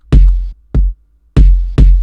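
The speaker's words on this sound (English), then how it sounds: "Make sure it's like a really loud, blasting stadium kick type style like that." Four loud, booming stadium-style kick drum sample hits in an uneven pattern in FL Studio, deep and punchy with short tails, played alone.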